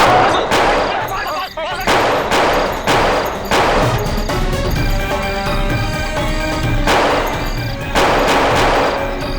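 Heavy gunfire in a tense standoff, repeated loud bursts of shots and rapid volleys filling the whole stretch, close and harsh, with shouting voices mixed in.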